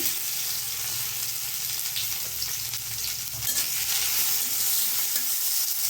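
A little onion and chopped tomato fry in a small amount of oil in a pan, giving a continuous, even sizzle that hisses close by without letup and without any talking.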